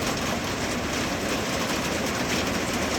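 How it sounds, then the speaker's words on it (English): Continuous rain mixed with a little hail hisses and patters, dense and even, with occasional sharper taps mixed in. "It looks like it's raining and still a little bit of hail."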